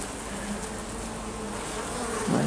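Honeybees at an opened hive being readied for winter, a steady close buzzing drone that swells slightly near the end, with no talk.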